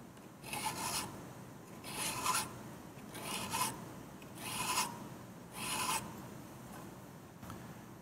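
A hand file rasps along a drawn edge to reshape it toward a curve, pressed fairly hard, giving five rhythmic strokes of steady scraping, close and alone with no talk.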